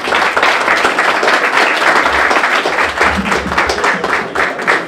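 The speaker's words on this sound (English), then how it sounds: "let's have a round of applause for Doug" Applause for Doug at a Chamber and Rotary Club dinner event, dense crowd clapping sustained loud and steady throughout with no pause.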